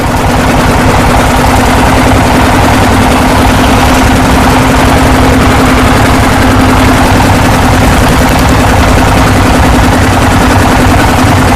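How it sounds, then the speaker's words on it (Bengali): Many trawler boat engines run together on the water heading toward a stony riverside spot, a loud, dense low drone with a steady hum and rapid chugging pulse, unbroken and close throughout. "অনেক ট্রলার একসাথে যেতেছে"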